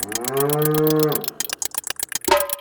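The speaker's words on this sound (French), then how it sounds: "C'est la vache." A cow gives one long, loud, close moo lasting about a second, followed by softer scattered sounds and a brief second low call at the end.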